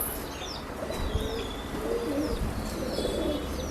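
Pigeon sounds, soft coos and light chirps, mixed with faint wing flutters from a male pigeon being let out, quiet and close against a low background hum.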